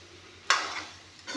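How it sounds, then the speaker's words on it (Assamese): Meat frying in a pan bursts into a sudden loud sizzle as it is stirred, then fades before a second rising hiss at the end. "এয়া চাওক মাংসখিনি ভালকৈ ভাজি ল'লোঁ"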